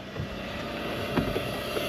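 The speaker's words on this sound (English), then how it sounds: "At the moment I've got the water maker running" A boat's water maker turning seawater into fresh water in the engine room, a steady mechanical hum and whine with faint hiss, constant and fairly quiet, with no one talking.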